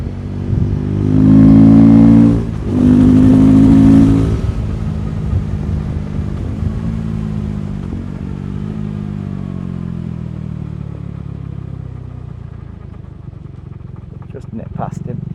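A 2024 KTM 390 Adventure motorcycle engine revs loudly in two strong bursts at the start, then settles into a steady, fading drone with shifting pitch.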